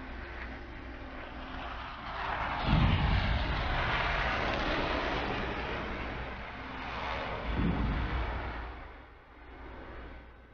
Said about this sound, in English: Oh, there's planes coming.